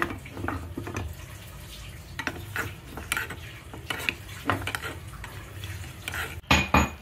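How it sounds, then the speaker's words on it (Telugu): Cashew nuts frying in a pan for papaya halwa, a low sizzle broken by repeated scraping stirs and metal clinks of a spoon against the pan, close up, ending in a louder clatter. "జీడిపప్పు వేయించేసుకుందామండి."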